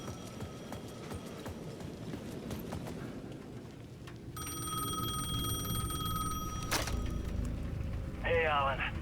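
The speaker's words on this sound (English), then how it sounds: "The payphone at the edge of the plaza was ringing again." A payphone in Alan Wake 2 rings with a bright metallic bell for about two seconds midway through, set among footsteps and low ambient game noise that swells afterward.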